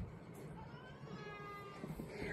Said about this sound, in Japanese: 外でも 猫ちゃんたちが泣いてます。